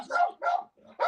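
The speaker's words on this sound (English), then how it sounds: "my dog keeps barking" A dog barks three times in quick succession, close by and loud, each bark short and sharp with brief gaps between them, heard alone with no talking.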